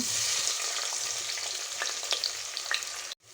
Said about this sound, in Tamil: இப்போ நம்ம வந்து இதில் வந்து வெங்காயம் போட்டுக்கலாம்